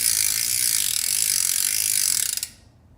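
A Specialized P3 bike's freewheel hub ticks loudly in a fast, continuous buzzing ratchet close up, slowing slightly before stopping abruptly.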